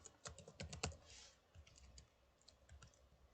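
Close, crisp clicks of a computer keyboard being typed on, in quick irregular bursts that thin out into scattered keystrokes, with no talking.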